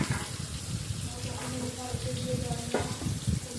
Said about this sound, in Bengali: যতক্ষণ না আমটা একটু লাল লাল ভাজতে হচ্ছে ততক্ষণ নাড়াচাড়া করে ভেজে দেবো